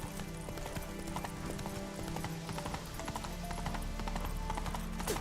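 Horse hooves clip-clop at a steady trot in The Witcher 3 video game on PS5, a continuous rhythmic clatter over a low rumbling game ambience throughout.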